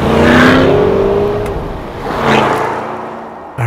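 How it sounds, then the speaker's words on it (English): A 2022 Chevrolet C8 Corvette Convertible engine revs up loudly through its exhaust, drops, then revs again in a second rising surge, close and throaty. "I really do think they did a good job with the exhaust note."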